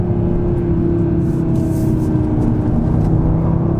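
Inside a 2022 Audi RS3 heading into corners, the engine holds a steady, loud drone with road rumble, continuous and close, and nobody talks over it.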